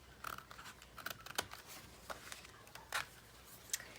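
Scissors snip through pages being cut from old books for a junk journal, a few short crisp cuts spaced irregularly, close and quiet, with no talking.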